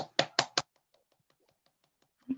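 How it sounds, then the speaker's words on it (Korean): Participants at a household-budget class give themselves a brief round of applause: three or four sharp, loud claps in quick succession, then near silence with faint taps and one final soft thump. "우리 자신을 위해서 박수 한번 치고 시작할게요"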